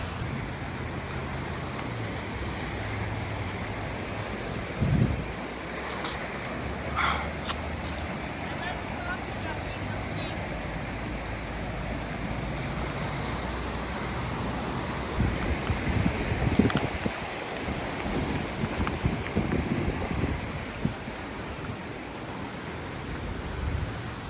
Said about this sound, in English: Nothing like the sound of a river either.